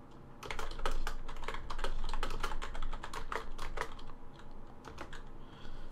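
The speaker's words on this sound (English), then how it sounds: "notice it automatically tabs over again when we hit the enter key to go to the next line" Rapid typing on a computer keyboard, dense bursts of close, crisp key clicks with short pauses, fading toward the end, no voices.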